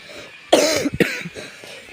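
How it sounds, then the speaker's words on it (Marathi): A person coughs close by, one harsh burst followed by a second shorter cough and some fainter throat sounds trailing off. "त्या खोकल्यासाठी तर लय वैताग दिलाय"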